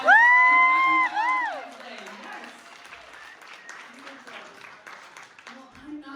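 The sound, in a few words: audience applause at comedy club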